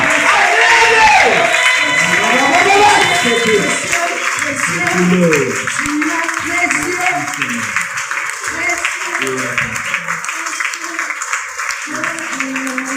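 A church congregation cheers and claps loudly to acclaim Jesus, a dense roar of applause and voices that stays strong throughout, with a speaker's voice over it.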